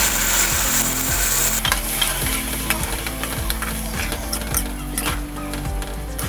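Masala mixed with curd, ginger and garlic roasts and sizzles loudly in oil in a pan. Steady frying hiss runs throughout, with rhythmic scraping strokes of a stirring spoon close up.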